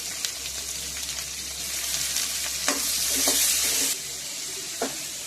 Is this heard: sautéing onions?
yes